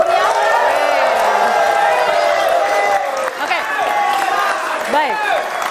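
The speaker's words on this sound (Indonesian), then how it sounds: "boleh dong tepuk tangan lagi yang meriah" Studio audience at an Indonesian television debate talk show applauding and cheering, a loud continuous crowd roar with whoops and scattered claps, backed by upbeat music with sliding tones throughout.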